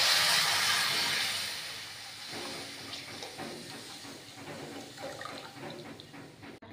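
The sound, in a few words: milk poured into roasting grated sweet potato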